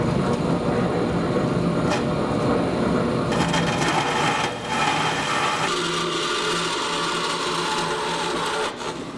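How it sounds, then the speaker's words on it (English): A bandsaw cutting metal for the frame of a 1982 Jeep CJ7, a continuous grinding, whirring cut with a steady mechanical drone and small shifts in tone as the blade works through, close and fairly loud. "I have a bandsaw, so I'm going to use the bandsaw."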